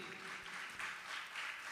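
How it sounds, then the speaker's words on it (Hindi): An audience at a religious gathering with a Jain monk gives a steady wash of applause, fairly faint and continuous, swelling slightly a couple of times. "आप लोग तालियों के साथ में"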